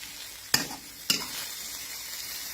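Fish with roe frying in a hot pan, a steady sizzle broken by two sharp spitting pops close up.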